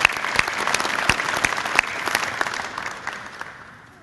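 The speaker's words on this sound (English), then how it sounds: "So please give Chuck a round of applause," An audience at the Round House Phase Two dedication ceremony gives a round of applause for a project leader and his team, with steady dense clapping, a few sharper claps standing out, and the sound tapering off toward the end.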